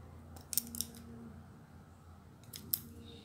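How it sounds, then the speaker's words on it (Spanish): Scissors snip crochet yarn in a few quick, quiet cuts, two close together and one more a couple of seconds later, over a low background hum. "aquí vamos a cortar el hilo"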